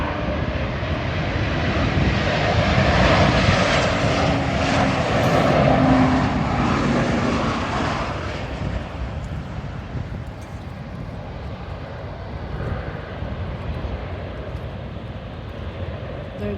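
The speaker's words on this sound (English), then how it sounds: "There it is, it's coming. Another airplane." A British Airways airplane near London City Airport flies past with a loud, broad jet roar that peaks then gradually recedes into a softer distant rumble.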